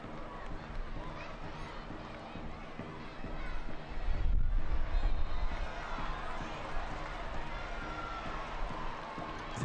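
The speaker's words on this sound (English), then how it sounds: "Crowd still trying to urge this Washington side on." Stadium crowd noise at a women's professional soccer match between Washington Spirit and Angel City, a broad steady roar of many voices that swells briefly midway, with commentary voices mixed in.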